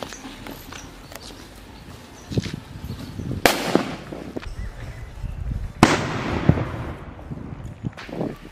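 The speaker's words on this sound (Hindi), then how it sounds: "काफी मस्त तरीके से यहाँ पर ये वेनम का सूतली बम फटा है।" A Venom sutli bomb firecracker goes off in a cement hole outdoors during Diwali fireworks testing, two sharp loud blasts a few seconds apart with scattered crackles and thuds around them.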